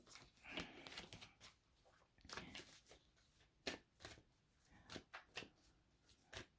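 Tarot cards are handled and shuffled close up while one more card is drawn from the deck, a series of soft, quick riffling and sliding sounds in irregular bursts, faint and with no voices.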